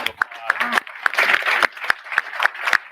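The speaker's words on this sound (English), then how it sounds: "everybody give this man a round of applause" Audience applause at a community incubator grand opening, with sharp individual claps standing out over a softer spread of clapping from a room of people, lasting a few seconds.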